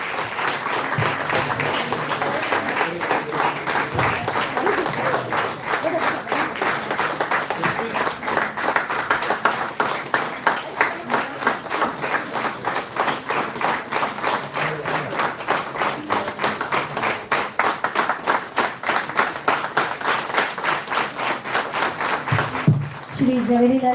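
An audience at a singing star competition gives sustained, dense applause, with rapid clapping going on at even loudness for about twenty seconds before it dies away and a voice comes in.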